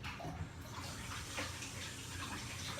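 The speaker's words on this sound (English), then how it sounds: "just washing my hands" Hands being washed under a running kitchen faucet while baking chocolate crinkle cookies, a continuous soft gush of water heard fairly close throughout.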